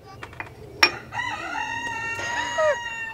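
A rooster crows outdoors in one drawn-out, wavering call, preceded by a few sharp clucks and chirps, heard fairly close against a faint low background.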